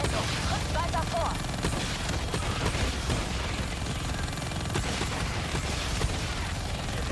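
Gunfire in Call of Duty: Black Ops 3 during an air-support mission at an Egyptian aquifer, a dense continuous battle din of rapid shots and bursts, loud and unbroken throughout.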